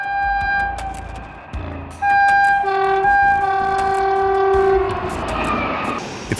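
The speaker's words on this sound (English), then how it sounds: "When you hear the train's horn, it can also give you a sense of how fast it's moving." A loud train horn blares in long sustained blasts over the rumble and clatter of a passing train, close by.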